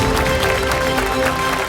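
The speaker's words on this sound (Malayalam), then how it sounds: "നല്ലൊരു കയ്യടിയോടുകൂടി തന്നെ അദ്ദേഹത്തെ ഈ ഒരു വേദിയിലേക്ക് സ്വാഗതം ചെയ്യാം" A crowd at the Logos Bible Quiz grand finale claps steadily and loudly to welcome a contestant, a dense, even wash of applause throughout.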